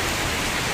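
Heavy rain falls in the forest around Phuoc Son Monastery in Vietnam, a dense, even hiss of drops with no break or other sound in a brief moment.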